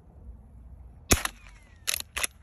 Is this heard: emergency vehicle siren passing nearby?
no